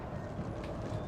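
Cavalry horses charging across a battlefield in Empire: Total War, a dense rumbling patter of many hooves in a brief, steady burst of low battle noise.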